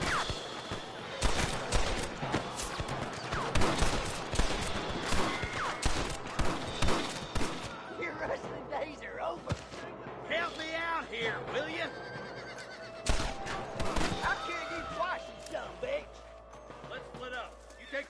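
Rapid gunfire crackles through a Red Dead Redemption shootout against rustlers, with sharp repeated shots among horse whinnies and hoofbeats while characters shout over the fighting.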